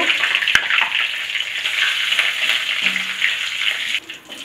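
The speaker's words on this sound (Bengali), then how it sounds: "ওই তেলেই আমি সাদা জিরে ফোড়ন দেব, 2টো তেজপাতা দেব আর গোটা গরম মশলা দেব" Whole cumin, two bay leaves and whole garam masala spluttering in hot oil left from frying kofta balls, a continuous bright sizzle with a sharp tap early on, easing slightly near the end.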